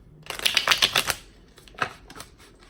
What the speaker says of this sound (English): I'm just going to give the deck a couple shuffles here